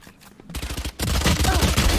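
Valorant gunfire comes as a quick burst of rapid shots and then a louder, denser barrage, close and heavy, with game sound filling the background.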